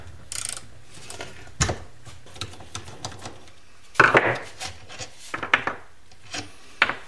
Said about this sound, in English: Now let's just see if maybe we can get this with the ratchet.